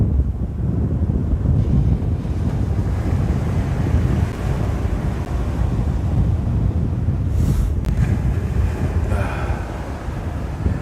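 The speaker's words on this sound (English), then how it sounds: "We've got a howling southerly." Strong southerly wind on the coast at night during a snapper and mulloway fishing trip, a loud constant roar buffeting the microphone with surf-like rumble, no talk.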